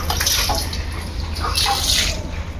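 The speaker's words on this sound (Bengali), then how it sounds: "মুস্কান কি সুন্দর মতো পানি দিল, ছোট্ট বালতি দিয়ে পানি আনতাস।" Water poured and splashed from a small bucket while a car is washed outdoors, a steady wet gush with a few drips and splashes, fairly loud and close, under a low background hum.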